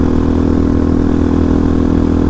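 A Vitacci Apollo DB36 supermoto engine runs loud and close, a steady, dense mechanical drone with no obvious rise or fall in pitch.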